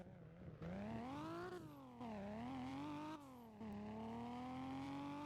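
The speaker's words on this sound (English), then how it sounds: "Now you can hear the repaired 6-cylinder engine" In the Roblox game Fix It Up, a repaired six-cylinder car engine runs steadily, its tone rising and dipping with revs and briefly cut at moments, heard alone and fairly quiet.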